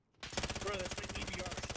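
Rapid automatic fire from a FAL-type rifle in Call of Duty: Modern Warfare, a steady stream of close, loud shots in tight rhythm that starts abruptly after a brief silence.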